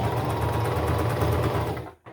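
Singer Start 1304 sewing machine stitching steadily at speed for about two seconds, a loud continuous mechanical whir with rapid needle clatter that slows and cuts off near the end.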